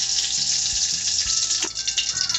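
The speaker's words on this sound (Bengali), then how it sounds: "এর মধ্যে আমরা ঘি এবং তেলের মিশ্রণটি দিয়ে দিচ্ছি।" A ghee and oil mixture sizzles in a hot wok while Bengali sandesh is being prepared, giving a steady, close, bright hiss with faint low clinks underneath and no talking.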